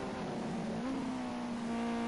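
Ginetta Junior race car, the number 14 car, circuiting Monza: a steady engine drone with a clear tonal whine that rises slightly in pitch as it accelerates, heard at moderate distance without any voices.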